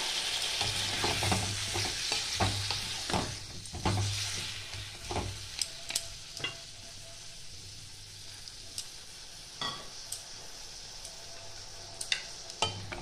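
Bottle gourd fries quietly in a pan with a soft, steady sizzle while a spoon stirs and scrapes at irregular intervals. No one speaks.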